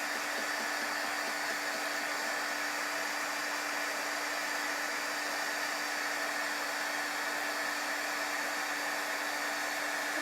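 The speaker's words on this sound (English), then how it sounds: "You don't want to overheat your chalk paste. Okay? I'm just drying the chalk paste." A heat tool blows steadily over chalk paste on a sign, giving a continuous close whirring fan noise with a steady hum and no pauses.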